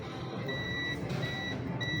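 Continuity-test beep from a multimeter checking a triac on a Mademsa washing machine control board: three steady electronic tones, each lasting about half a second, over a noisy background hum.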